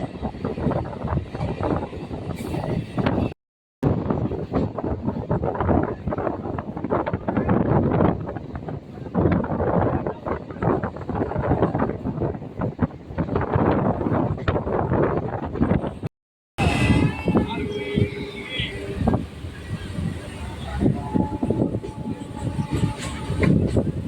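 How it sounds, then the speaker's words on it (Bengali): A local train pulls away from Chandanpur station on the Bali–Bardhaman chord line, a loud, sustained rumble and rattle of wheels and carriages with wind buffeting the microphone, briefly cutting out twice. "ট্রেন এখন চন্দনপুর স্টেশন ছেড়ে বেরিয়ে যাচ্ছে"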